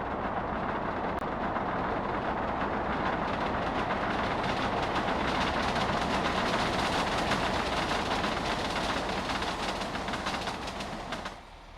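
A freight train rolls along rails in the Soviet Republic city-building game Workers & Resources, a steady rumbling clatter held at even volume for several seconds before dropping away sharply near the end.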